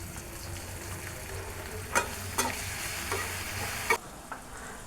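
Oil sizzling in a kadai (wok) for a vegetable dish, a steady low frying hiss with a few sharp clicks and spatters, close and fairly quiet with no talking.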